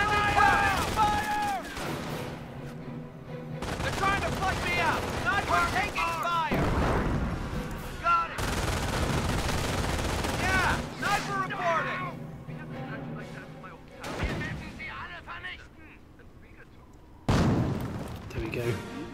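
A battle rages in the video game Company of Heroes during the Carentan mission, with repeated gunfire bursts and heavy booms rising and falling over about nineteen seconds, broken by brief lulls, as unit voices call out over the combat.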